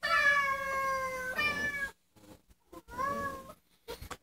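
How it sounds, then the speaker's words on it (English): Two cats meow loudly and long, nearly in unison, then after a pause let out another drawn-out meow followed by short chirps. "Every day they meow like this."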